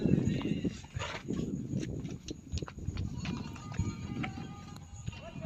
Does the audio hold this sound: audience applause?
no